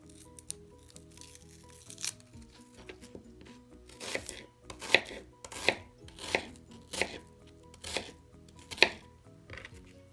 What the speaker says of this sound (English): I'm going to go ahead and chop up my onion